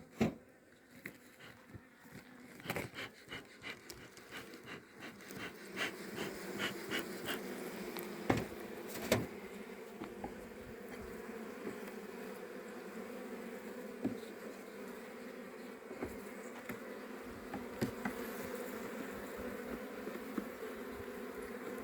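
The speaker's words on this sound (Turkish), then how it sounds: "Bu da talancı arılar bunlar." A steady buzzing drone of many robber bees at a mite-stricken hive, with occasional sharper clicks and bumps, close and continuous throughout.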